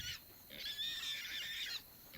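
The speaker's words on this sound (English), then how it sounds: "Stop squealing, pigs." High, sustained squeals from pigs in the video game South of Midnight, two bursts, the second long and shrill, heard fairly quietly without talk.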